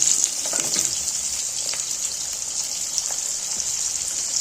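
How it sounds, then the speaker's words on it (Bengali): Three medium sliced onions dropped into hot oil with fried whole spices, giving a loud, steady, close sizzle with a few splashy crackles near the start and no talk. "আমি যে তিনটে মাঝারি সাইজের পেঁয়াজ কেটে রেখেছি তো সেইটার মধ্যে ছেড়ে দিচ্ছি"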